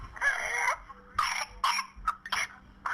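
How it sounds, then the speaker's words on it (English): A child with whooping cough in a harsh coughing fit, several rapid coughs in bursts with gasping, whooping breaths between them, close and fairly loud. "He was coughing and doing the whoop."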